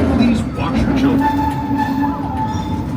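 The Disneyland Railroad steam train runs on the Grand Circle Tour from New Orleans Station, with a steady loud rolling rumble and rail noise. An amplified announcer's voice talks over it throughout.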